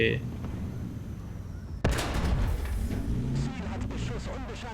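A tank cannon fires in the War Thunder video game during a Cold War-era tank battle: one sharp, loud blast cuts through a low rumbling background, followed by a ringing, noisy tail with faint voices underneath.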